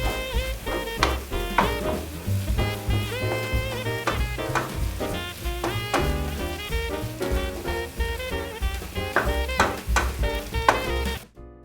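Steady sizzling of food frying in a pan as flour is stirred in, with scraping stirring throughout, dense and close, over a long continuous stretch.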